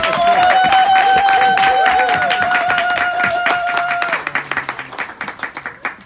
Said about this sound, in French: Est-ce qu'on peut applaudir pour l'instant?